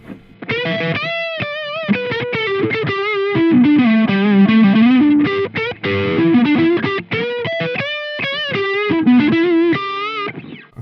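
A distorted electric guitar plays a sustained, singing lead melody with bends and held notes, loud and up front, no voices, through an Engl Gig Master 15 amp's distortion channel.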